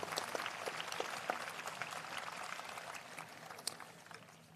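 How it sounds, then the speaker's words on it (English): Applause from an audience at a 2022 high school graduation ceremony in Enumclaw, a steady patter of many clapping hands that slowly thins toward the end, moderately distant and not loud. "How about a nice round of applause for these servants of your community?"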